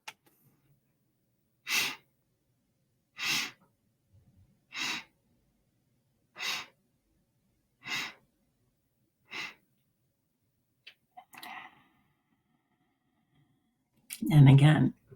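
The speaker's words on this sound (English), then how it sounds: "And exhale" A person exhales audibly during a guided breathing exercise: six evenly spaced breaths out, each a soft airy rush about every one and a half seconds, followed by a louder closing breath.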